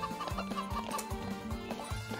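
Chickens clucking in the video game Ranch of Rivershine, a steady series of short, close clucks repeating about every half second over a busy game soundtrack.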